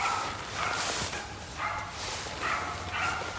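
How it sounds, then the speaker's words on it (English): A small dog barks in an agitated run of repeated yaps at a moderate distance outdoors in a local woodland, with no talk over it. "That wee dog's going nuts, as you can hear."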